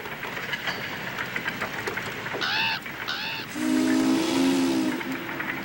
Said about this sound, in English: blew the steam whistle of the electric light works